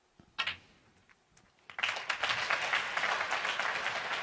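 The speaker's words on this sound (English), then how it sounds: "And the crowd have done their calculations, hence the applause." Snooker spectators at the 2017 China Open semi-final between Mark Williams and Hossein Vafaei break into applause. A couple of sharp knocks come first, then the clapping swells and holds steady, filling the hall.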